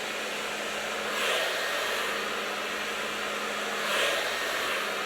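A hair dryer blows steadily while long hair is being blow-dried, with a constant airy roar and two slight swells as the nozzle moves closer. No one speaks.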